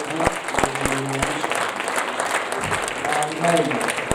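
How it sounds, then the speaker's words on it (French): A church congregation applauds in a steady wash of clapping with scattered individual claps standing out, while voices call out over it throughout. "Je veux juste qu'on applaudisse le Seigneur pour ce qu'il est."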